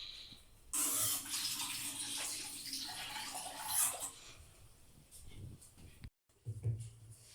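Water poured over someone bathing gives a loud rushing splash for about three seconds, followed by a few softer splashes and drips, with voices talking close by.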